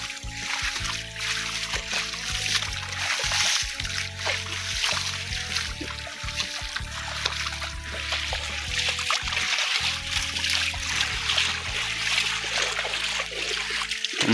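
Footsteps slosh through a waterlogged field under cloudy skies, with continuous close splashing and trickling water and a constant wet churn throughout.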